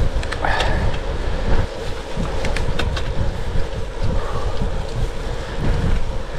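Strong headwind buffeting the microphone while cycling uphill on a road in the Pennines, a loud continuous low roar and rumble with gusty surges throughout and no speech.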